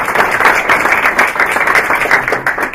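A science communications summit audience applauds: loud, close, steady clapping from many hands, fairly uniform in rhythm, filling the whole stretch without any speech.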